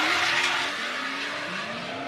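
Two drift cars, one Japanese and one German, one white and one black, both with 2.8-litre engines, slide side by side in a twin drift battle at a Slovenian championship. The engines drone loudly and the tyres hiss steadily throughout.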